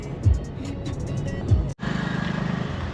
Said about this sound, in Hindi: बहुत गंदा ट्रैफिक भाई साहब